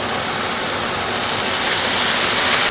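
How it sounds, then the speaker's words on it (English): Water hitting a hot pan used to sear oxtail, a loud, dense, continuous sizzle and hiss of steam that cuts off abruptly at the end. "We'll deglaze the pan with a little water."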